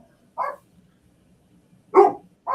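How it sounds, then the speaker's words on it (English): A dog barks three times, loud and close, in short separate bursts with quiet gaps between them, heard alone without voices. "Damn dog."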